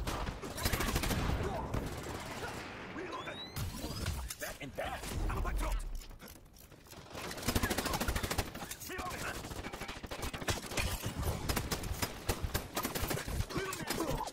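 Rapid submachine gun bursts in the online shooter Dirty Bomb, dense loud rattling fire coming in long runs with brief gaps, mixed with other game effects.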